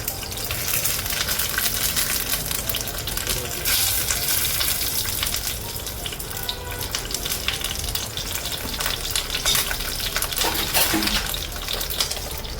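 Prawns wrapped in banana leaf parcels fry in a small amount of oil in a pan, giving a loud, dense, continuous sizzle with fine crackles throughout, close up and with no talking.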